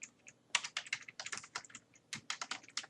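Typing on a computer keyboard while entering a Word module skills review, with rapid irregular bursts of close key clicks and short pauses, no voices.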